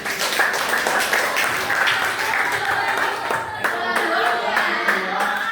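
A classroom group claps for a student group after its presentation, brisk steady clapping from a roomful of people with voices chattering underneath throughout.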